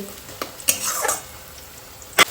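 Onions sizzle in a frying pan while a utensil stirs them, giving a few brief scraping clatters over a soft, close frying hiss in a home kitchen.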